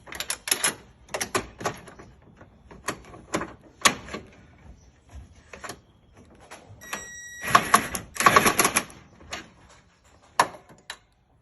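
Wrench work tightening radiator bolts and nuts on an 80 series Land Cruiser, with a string of sharp metallic clicks and ratcheting bursts in quick irregular clusters, close by with no talk.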